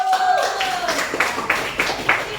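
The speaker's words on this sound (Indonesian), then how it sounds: "Kasih tepuk tangan." A classroom of students claps for a classmate, brisk scattered hand claps that build into a quick patter over a murmur of voices.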